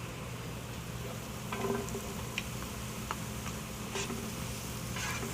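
Onions sizzle steadily in a hot pan for a home-cooked Sunday dinner, a continuous soft crackle with a few sharper ticks and pops scattered throughout, moderately close and with no talking.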